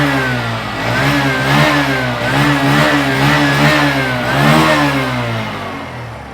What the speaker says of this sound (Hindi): आप बाइक के इंजन का साउंड सुनिए, एग्जॉस्ट नोट सुनिए। थोड़ा सा थ्रॉटल देता हूँ